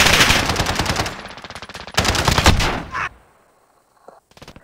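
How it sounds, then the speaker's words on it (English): Automatic gunfire in a video game comes in two long rapid bursts of loud, close shots, then a short quiet gap and a few more scattered sounds. "How are these guys shooting me before I shoot them?"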